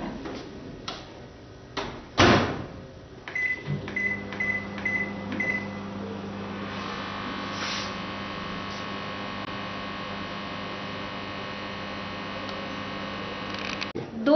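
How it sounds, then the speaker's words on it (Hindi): Microwave oven drying pressed flowers in a microwave-safe dish: clicks and a door thud, beeps, then a steady electrical hum with a low drone running throughout, no talking. "माइक्रोवेव के इस बर्तन को, जिसमें कि हमने फूलों को दबाया है, माइक्रोवेव में 2 या 3 मिनट के लिए सुखाने के लिए डाल देते हैं"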